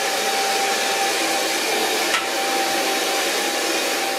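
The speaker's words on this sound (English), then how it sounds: "And my hairdryer, I got sent this, and it's actually such an amazing hairdryer." A Lanai Blow hair dryer runs steadily while drying hair, a close, loud, constant airy whoosh with a steady motor whine and one brief bump midway, no voices.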